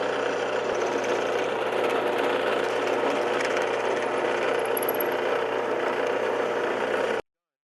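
Power drill boring through two stacked wooden featherboard pieces at once, a steady loud continuous whine and grind running unbroken for about seven seconds before cutting off abruptly.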